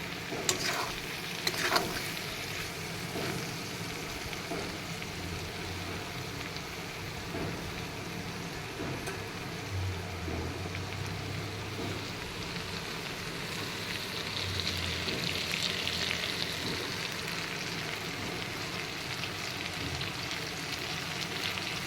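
Fermented shidol fish with jackfruit seeds sizzles steadily in a pan over low heat, with a constant frying hiss and intermittent scraping and stirring noises, no voices.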